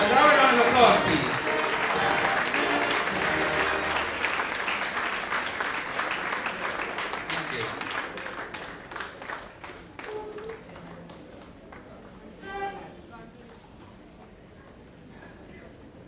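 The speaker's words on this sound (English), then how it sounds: "Ladies and gentlemen, a round of applause," Audience applause at a school competition event, loud and dense at the start and gradually thinning out over about sixteen seconds, with a brief spoken thanks near the end.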